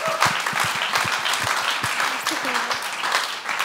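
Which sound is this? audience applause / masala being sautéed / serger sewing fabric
audience applause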